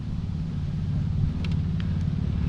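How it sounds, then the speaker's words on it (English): Wind blowing outdoors near a fountain, buffeting the microphone as a constant low rumbling roar, close and steady with no speech. "Not a bad day except for the wind out here today."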